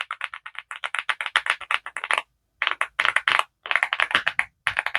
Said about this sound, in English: And I have this Sermon M75 keyboard.